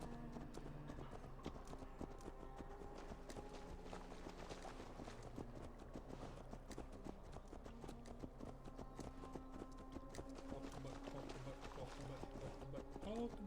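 Horses' hooves clip-clop at a running pace in Assassin's Creed Valhalla, a dense steady patter of hoofbeats over game music and ambience throughout.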